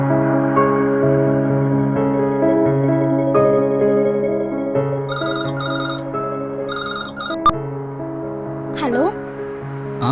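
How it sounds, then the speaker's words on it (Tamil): A phone ringtone plays as a steady melodic tone pattern over several seconds in a Tamil comedy short film, loud and close, with a brighter tone section partway through. "மச்சான் டேய் சுசீலாவுக்கு ஃபோன் பண்ணி பேசுகிறா"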